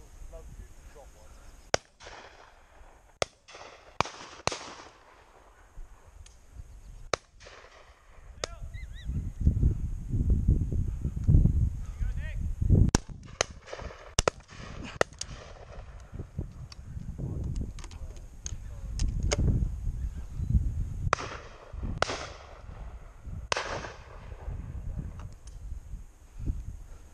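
Shotgun shots on a pheasant, partridge and duck shoot, with several sharp reports scattered through the clip between busy outdoor noise, goose-like honking and voices of people talking.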